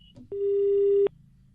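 A telephone busy tone after a caller hangs up: one steady, loud electronic beep lasting under a second, alone over faint background hiss, following a short click.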